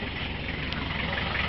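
A 1992 Toyota Hiace custom van fitted with an HHO hydroxy kit idles with a steady, even rumble, close and continuous through the short stretch, with no talk.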